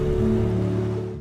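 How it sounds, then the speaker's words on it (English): Close, crisp rush of flowing water as a sound effect, a dense steady wash heard alone and loud for just over a second before cutting off. "the camera is close to the water moving. So I know that I want it crisp and clear,"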